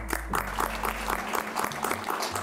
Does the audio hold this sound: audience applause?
yes